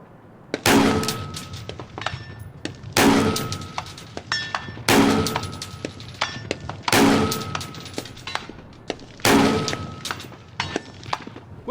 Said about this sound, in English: You got John Wick shooting over there